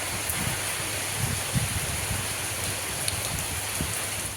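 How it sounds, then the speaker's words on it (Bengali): Rain falls outdoors in a steady, even wash of drops, with a few soft thumps and rustles standing out now and then, no voices. "তারপর দেখো বৃষ্টি শুরু হয়ে গেছিলো"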